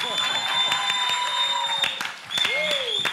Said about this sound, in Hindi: इस लाइन के लिए मेरे लिए तालियां